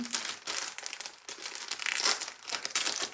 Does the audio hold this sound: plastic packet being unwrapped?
yes